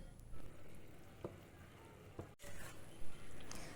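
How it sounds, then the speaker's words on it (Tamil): Jaggery is stirred into sweet mango pachadi in a pan, giving a soft, low sizzle with faint scraping strokes. The sound is quiet and close, with a little background voice. "வெல்லத்தை சேர்த்து நன்றாக கிளறி கொள்ளவும்"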